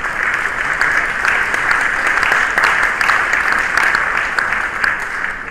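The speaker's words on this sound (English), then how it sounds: "we can give them a round of applause as they do that" Sustained applause from a meeting audience fills the space, a dense steady wash of many hands clapping without a break, fairly loud and close, while co-chairs take their seats at a senior-level development cooperation meeting.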